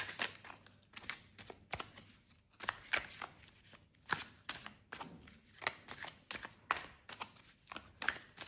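Tarot and oracle cards shuffled by hand, quiet and close, a long run of rapid riffling bursts and soft card slaps in an uneven rhythm.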